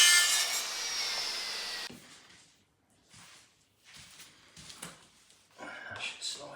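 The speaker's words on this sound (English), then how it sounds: "Let's go out to the mitre saw and we can whiz that off." A mitre saw whizzes through a piece of vinyl click laminate flooring with a loud, bright whine, then winds down, followed by quieter rustling and handling as a person talks nearby.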